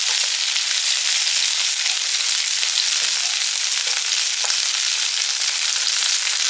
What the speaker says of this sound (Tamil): எல்லாத்தையும் வந்து கொஞ்சம் சிம்மிலே வந்து லைட்டாக வதக்கினா போதும்.